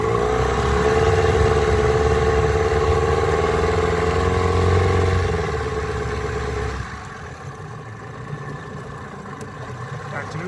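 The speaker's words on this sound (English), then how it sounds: "It's a nice running motor." A 1995 15hp Evinrude outboard motor runs in reverse, a loud, steady droning hum close by that drops in pitch and volume partway through as it eases back toward neutral.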